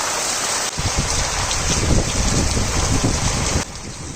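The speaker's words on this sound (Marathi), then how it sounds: "पाऊस विजांच्या कडकडाटासह पडतच होता" Pre-monsoon rain pours steadily in the Konkan countryside during a thunderstorm, a dense continuous hiss of drops close by with a soft wind rumble underneath, starting abruptly and holding at an even level.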